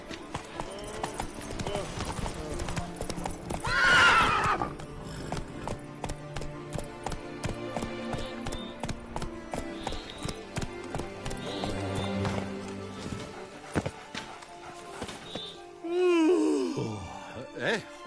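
Roach, a horse in The Witcher 3 Blood and Wine, gallops with steady near hoofbeats, snorting and whinnying at the start and again near the end, over a layer of game music.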